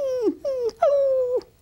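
A person imitating a dog whining and crying, voicing the dog in a stage production of Annie: three close, high, wavering whimpers, the last one long and drawn out, with no other sound.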